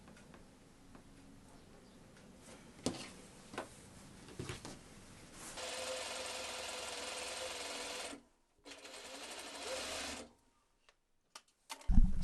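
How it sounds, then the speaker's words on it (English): A sewing machine stitches two pieces of fabric together in two runs of fast, even mechanical whirring, separated by a short pause. Scattered clicks and handling taps come before and after, with no talking. "go to the sewing machine and sew these two together"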